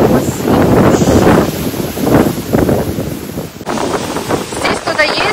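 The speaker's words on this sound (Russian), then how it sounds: "Ветер какой сильный." Gusty, strong wind on the Hawaiian coast thuds and roars against the mic in uneven surges throughout, with voices talking beneath the blustery noise.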